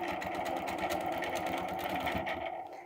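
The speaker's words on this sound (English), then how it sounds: "now we're going to stitch across the green" A sewing machine stitches a quilting design across green fabric, its needle running in a fast, steady mechanical chatter close up, then slowing and stopping at the end.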